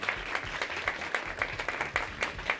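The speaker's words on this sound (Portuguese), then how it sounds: "Uma salva de palmas para todos, sejam muito bem-vindos." An audience applauding to welcome students at a human rights event, steady rhythmic clapping from a room of people heard alone and fairly loud throughout.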